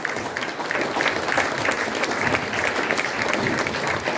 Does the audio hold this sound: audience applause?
yes